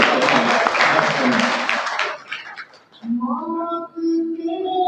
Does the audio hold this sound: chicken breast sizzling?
no